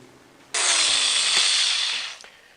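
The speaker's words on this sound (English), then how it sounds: "And now I'm going to sand it." A power sander sanding a wooden bowl whirs loudly for about a second and a half, a steady high-pitched grind that starts abruptly and winds down.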